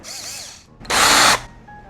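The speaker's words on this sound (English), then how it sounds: "This is a Fisher Price drill." A Fisher-Price toy power drill whirs in a short, loud burst after a few softer mechanical tones, then cuts off abruptly.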